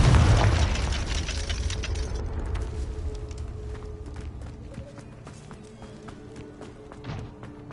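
Confringo blasting spell in a video game: a loud, close explosion bursts at the start, then rumbles and crackles as it decays over several seconds, followed by a smaller pop near the end.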